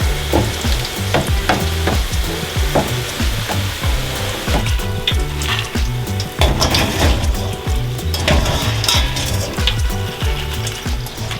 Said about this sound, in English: And now the little squares are going to be fried in some oil.